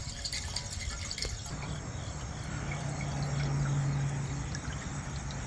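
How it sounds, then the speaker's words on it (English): Water runs steadily into a 4.5 gallon overland solar shower tank, a continuous close rushing fill with faint dripping and no voices. "Just got the water turned on, and well, it doesn't seem like it's leaking."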